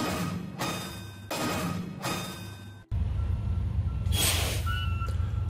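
A lime slurry truck backs up at an asphaltic concrete roadwork site, its steady repeating reverse beeps sounding over a loud diesel engine rumble, followed by a sharp hiss of air.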